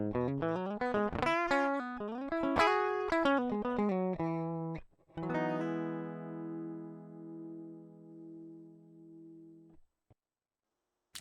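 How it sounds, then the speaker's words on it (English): Vigier Expert Strat electric guitar recorded direct with no processing, playing a quick run of clean plucked notes and chords before settling into a long sustained ringing chord that fades, with no talking. "I have a little direct recorded sound that I played on my Vigier Expert Strat."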